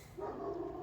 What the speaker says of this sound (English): But that's my dog barking.